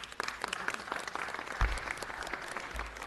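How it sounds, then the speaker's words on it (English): An audience at a council ceremony gives a sustained round of applause, dense steady clapping at moderate distance with no voices over it. "Give her a big round of applause."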